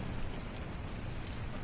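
Steady, dense rain in Microsoft Flight Simulator 2024 falls on a parked plane, a constant broadband hiss of drops with no breaks or voices.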